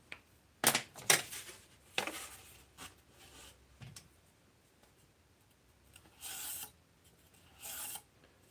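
Foam and wood stock for a model foam wing is cut by hand in a few short rasping strokes, close and fairly quiet, followed by two longer scraping passes after a pause.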